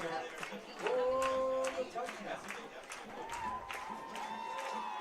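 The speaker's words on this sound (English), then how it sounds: "You can hear the crowd just screaming like crazy out there, folks." Crowd at a Walters vs Hobart high school football game cheering and screaming after a big catch, a broad roar swelling under an excited announcer's voice, with whistles and shouts across the stands.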